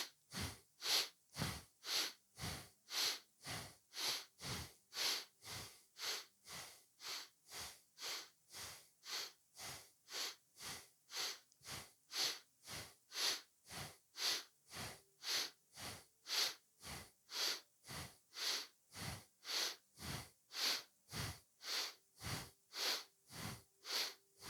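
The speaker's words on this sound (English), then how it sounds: "Inhale up, exhale down." Forceful rhythmic breaths during a yoga breathing exercise, about forty sharp, even nasal puffs in steady succession, close and without talk.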